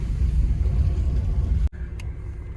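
A 1999 Alfa Romeo 156 engine runs nearby with a loud, low rumble for about a second and a half. It cuts off abruptly, then a quieter rumble continues after it.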